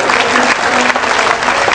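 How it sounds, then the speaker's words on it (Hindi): A crowd claps vigorously in a loud, continuous burst of applause to welcome guests at a religious discourse gathering. "आपके द्वारा उनको तालियों से स्वागत किया जाए"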